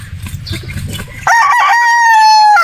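A Quadro Boston Roundhead brood stag rooster lets out one loud, close crow that starts about halfway through and holds a long sustained tone to the end, after a stretch of low shuffling and clucking noise.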